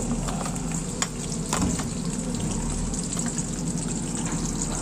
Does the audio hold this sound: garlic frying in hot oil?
yes